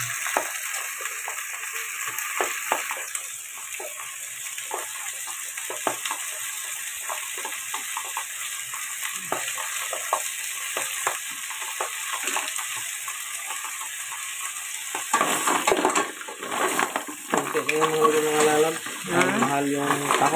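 A small bangus milkfish frying in a pan gives a steady, close hissing sizzle throughout, and other louder sounds join near the end.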